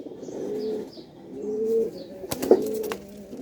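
Domestic pigeons coo repeatedly in low, rolling phrases, fairly close, with a brief flutter of wings partway through and no voices.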